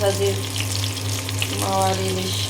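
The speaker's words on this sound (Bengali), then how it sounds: "মাছ উঠিয়ে নিয়ে এই তেলের মধ্যে পেঁয়াজ ভাজি করে নেব" Onions frying in the oil left over from frying hilsa fish, a strong, close, steady sizzle with faint background hum and brief voice-like tones behind it.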